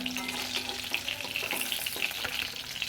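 Mutton shahi kebab fries in a pan with a steady, close crackling sizzle that holds without pause, and no voices are heard.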